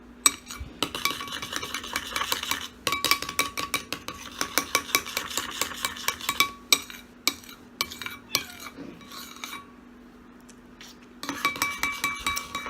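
A utensil stirring a honey hair mixture in a bowl, made for straightening hair: quick, close clinking and scraping taps in steady runs, briefly pausing, then resuming, quiet overall with a faint background hum.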